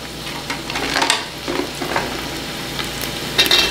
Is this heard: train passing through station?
no